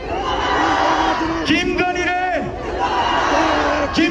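A large crowd at a candlelight protest rally shouts slogans together in loud, sustained unison, with voices swelling and overlapping throughout.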